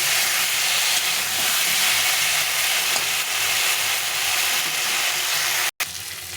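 Eggplant pieces fry in hot oil in a pan for a potato-and-eggplant fish curry, a steady loud hissing sizzle that runs almost unbroken, cut off for a split second near the end.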